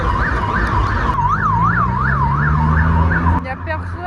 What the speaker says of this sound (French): pourquoi il me met les sirènes?